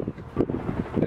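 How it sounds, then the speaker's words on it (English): Gusty wind buffets the microphone in low rumbling bursts, steady and close, with no voices. "It's still windy"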